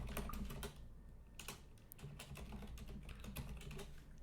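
Fingers tap steadily on a computer keyboard, with quick irregular bursts of clicks and short pauses between them. The keys sound quiet and close, and there is no talking.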